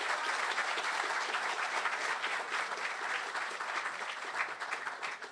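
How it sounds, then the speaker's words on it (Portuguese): Steady audience applause for a panelist being welcomed on stage at a WordPress conference in Rio, a dense even wash of many hands clapping, fairly distant and consistent throughout. "Palmas para ele, gente"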